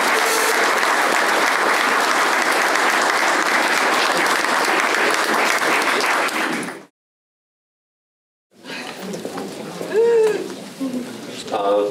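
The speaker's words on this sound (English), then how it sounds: "can you please give them a round of applause?" An audience at a town board candidates forum bursts into loud, sustained applause for several seconds, followed by a brief silence and then quieter room murmur with faint voices.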